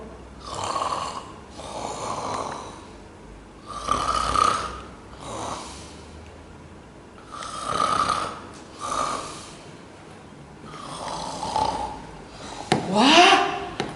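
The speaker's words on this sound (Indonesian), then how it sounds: "Enak banget tidurnya sampai ngorok." A sleeping person snores in slow, regular cycles, each rasping breath swelling and fading roughly every two seconds, close and moderately loud, ending with a higher snort-like sound.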